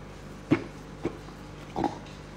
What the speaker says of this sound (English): it does make like an oinking sound when the foam goes back into it.